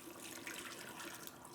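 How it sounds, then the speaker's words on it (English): Water draining from soaked broccoli sprouts, a soft, faint, continuous trickling and splashing that runs steadily throughout with no talk. "you drain the water again."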